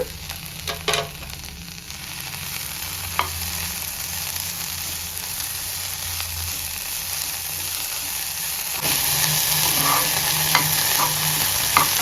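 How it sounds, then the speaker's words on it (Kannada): Fried onions with mint and coriander are stirred in a pan for a spicy onion chutney, with a steady close sizzle, occasional scraping stirs and a louder burst of frying toward the end. "ಇದಕ್ಕೆ ನಾವು ಪುದೀನ ಸೇರಿಸ್ಕೊಳ್ಳೋಣ, ಹಾಗೆ ಒಂದು ಕೈ ಹಿಡಿಯಷ್ಟು ಕೊತ್ತಂಬರಿ. ಇವಾಗ ಇದು ತಿರುಗಿಸ್ಕೊಡೋಣ."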